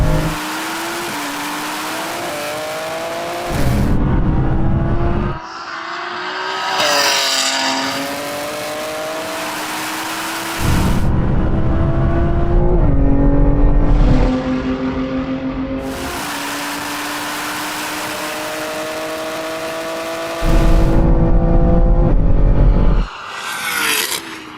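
Several BMW M3 Touring wagons, one stock and one tuned, in a third-gear roll-on drag race, engines roaring loudly as they accelerate hard through repeated upshifts, with pitch climbing and dropping at each gear change and no talk.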